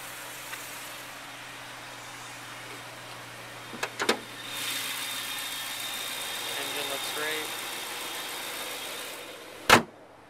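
A 2008 BMW M3 sedan starting up without the key in the ignition: a few clicks and a short crank, then a quiet, steady idle hum, ending with a sharp thump.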